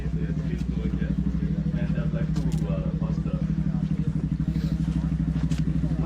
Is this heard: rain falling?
no